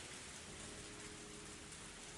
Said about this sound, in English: this was a downpour